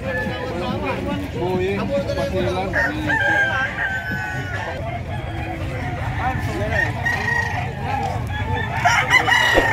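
Roosters crow repeatedly and hens cluck at a crowded livestock market in San Carlos City, Pangasinan, while steady crowd chatter and background babble run underneath throughout.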